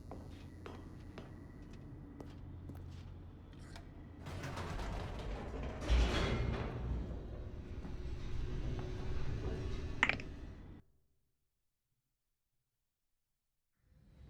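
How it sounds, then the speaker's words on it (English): An elevator descends in The Stanley Parable: a steady mechanical rumble with creaks and ratcheting clicks swells midway, then cuts off abruptly into silence. "The elevator raced downward, plummeting towards an unknown fate."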